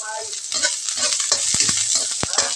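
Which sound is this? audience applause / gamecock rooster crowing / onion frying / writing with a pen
onion frying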